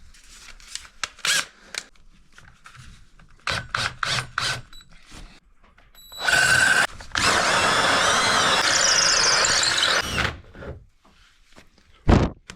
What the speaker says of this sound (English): Once you're done drilling the hole